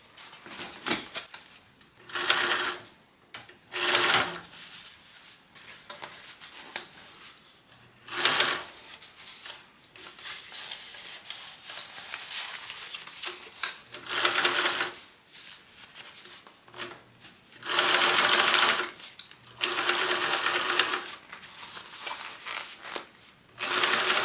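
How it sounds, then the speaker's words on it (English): A sewing machine top stitches a fabric train case 1/8 inch from the edge, running in repeated short whirring bursts with pauses and small handling clicks between, close and clear, with no talking. "I'm gonna push this down on my machine and we're gonna top stitch right along here, 1/8 of an inch"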